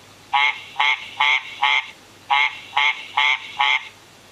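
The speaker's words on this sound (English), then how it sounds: "Is it the tree frog in picture 2?" Eight tree frog croaks sound alone and clear, in two groups of four evenly spaced calls separated by a short pause.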